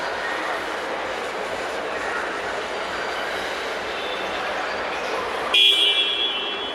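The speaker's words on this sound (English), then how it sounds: "The honk works, surprisingly." A car at an auto expo gives a short, bright honk near the end, cutting through the steady rumble of the crowded hall.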